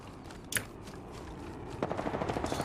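Gunfire in Apex Legends: a sharp single shot early on, then a quick rhythmic burst of automatic fire near the end, faint and distant-sounding against low background noise.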